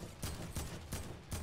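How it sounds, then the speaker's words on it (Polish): Faint bursts of rapid video game gunfire repeat at a steady pace, distant and muffled, like shooting heard from far off. "Słyszę strzały."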